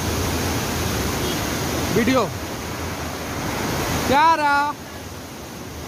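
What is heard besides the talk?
waterfall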